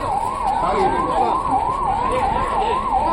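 An ambulance siren wails during a civil defense mock drill at the Anantapur bus stand, sweeping up and down in a steady, loud, continuous cycle with no speech over it.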